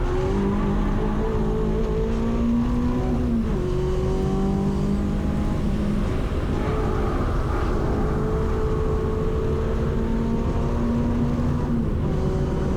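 Renault race cars run at Snetterton during a trackday championship round, a loud, continuous engine drone that rises and drops with gear changes and throttle.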